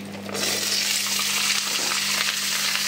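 Potatoes hit hot oil seasoned with cumin in a Bengali home kitchen, bursting into a loud, steady frying sizzle that holds close and continuous with a faint steady hum beneath.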